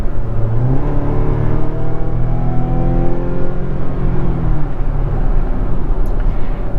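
A 2024 Mazda CX-90 PHEV's 2.5-liter turbocharged four-cylinder strains up a steep Vancouver hill, its loud, steady drone rising and falling in pitch beneath constant road noise, heard from inside the cabin without talk.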